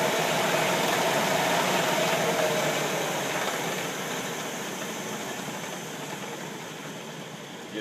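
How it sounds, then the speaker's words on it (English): A small 7x10 Harbor Freight mini lathe runs steadily with a broadband motor whir and faint hum, holding an even level throughout and easing slightly softer toward the end, with no talking. "there's my lathe set up. Not very big, just a 7x10 Harbor Freight"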